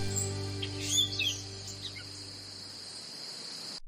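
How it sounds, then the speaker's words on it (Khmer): Songbirds chirp and trill in short bursts near the start over a steady high insect buzz, then fade, leaving the buzzing alone. "ផ្ដោតលើបក្សីច្រៀង"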